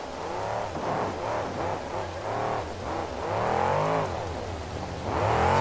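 Monster truck engine at a 2008 KORR Monsters event in Oakland, California, sputtering and misfiring as it revs unevenly, loud and continuous with rising and falling surges.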